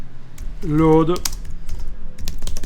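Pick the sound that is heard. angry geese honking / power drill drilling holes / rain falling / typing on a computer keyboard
typing on a computer keyboard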